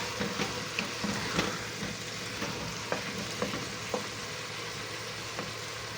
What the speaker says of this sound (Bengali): আজকে গরুর গোশ দিয়ে ছোট ছোট ভেন্ডি আর টমেটো দিয়ে রান্না করতেছি